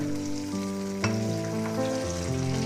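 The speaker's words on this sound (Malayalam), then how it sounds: "ജസ്റ്റ് ഒന്ന് ഫ്രൈ ആകുമ്പോൾ" Boti curry sizzles steadily in a hot pan with curry leaves frying, a continuous crackle with tonal hum and no talking.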